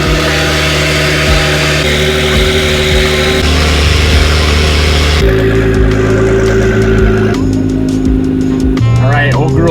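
A 1000HP Subaru running on pump gas revs loudly while driving, its engine tone climbing in pitch through several stepped gear changes, close and dominant with a voice speaking over it.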